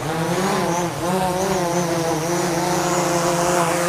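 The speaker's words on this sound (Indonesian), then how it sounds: "Anginnya kenceng banget." Very strong wind roars steadily over farmland while a drone is flown, a dense rushing blast overlaid with the drone's wavering motor whine, loud and close throughout without talking.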